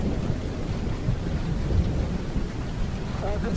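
Heavy monsoon rain pours steadily over the hilly Idukki region, with dense low rumbling of thunder throughout and a continuous wash of rainfall, loud and close with no talk.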